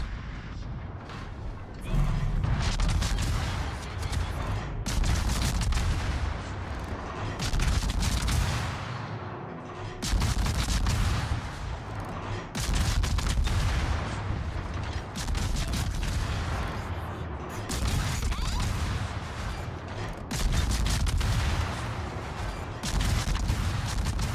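Naval guns of the Soviet ship Lenin in World of Warships booming in heavy repeated salvos, loud and rumbling, with mechanical creaks and intermittent talk over the battle.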